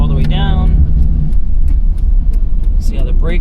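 Mitsuoka Ray K-car with a small carbureted engine and three-speed transmission held at full throttle, a steady buzzing drone from inside the cabin with occasional clicks, someone speaking over it at the start and end.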